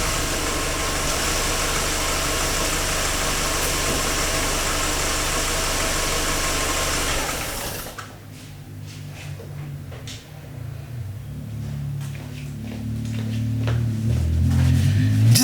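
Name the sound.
car engine idling, then being switched off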